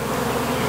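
Dense, steady buzzing of honey bees crowded on hive comb, a loud close drone with no pauses and no talking.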